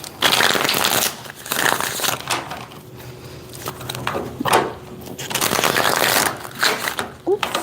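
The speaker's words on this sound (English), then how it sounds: "that was a bad shuffle" Tarot cards are shuffled in several rustling, riffling bursts close by, with quieter pauses between them.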